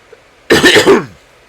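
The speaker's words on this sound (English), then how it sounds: "Sorry for coughing." A single short throat-clearing cough, close and fairly loud, breaking a quiet background.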